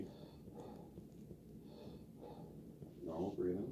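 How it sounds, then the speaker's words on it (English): Deep breaths in and out during a medical examination, soft and close, with slow airy inhales and exhales and a stronger breath near the end, while a doctor gives quiet instructions. "deep breath in and out"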